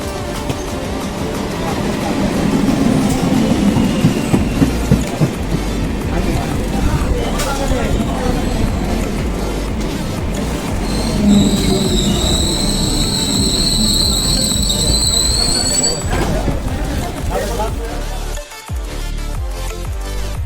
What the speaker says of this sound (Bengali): তো এখন ট্রেন আসবে, দেখতে থাকুন।